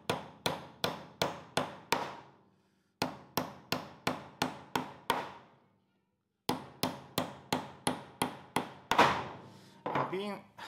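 A hammer drives nails into a rustic handmade wooden sign, giving three rapid runs of about six sharp, evenly spaced knocks, close and loud, separated by short pauses.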